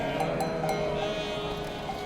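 Sheep on the Anatolian Plateau steppe give several bleats over a steady wash of outdoor ambience, fairly close and moderately loud, with no talking.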